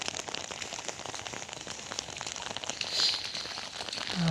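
Heavy rain pours steadily on a farm field, a dense, even hiss of drops hitting the ground and surfaces up close, continuous throughout with no voices.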